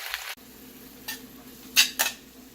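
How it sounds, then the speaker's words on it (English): Baby spinach wilts lightly in a hot pan, giving a soft, steady sizzle broken by a few quick stirring scrapes, close by, with no talking. "baby spinach. And we're just going to lightly wilt this down, not the entire way."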